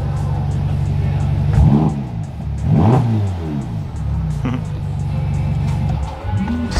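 Ferrari Portofino M engine revving gently in a few short bursts, each rising and falling over a steady idle, close and fairly loud, with brief talk in between.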